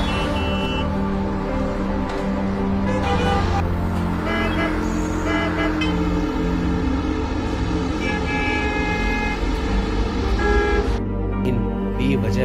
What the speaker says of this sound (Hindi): ये तेज हॉर्न की आवाज इन लोगों के लिए परेशानी का सबब बन जाता है।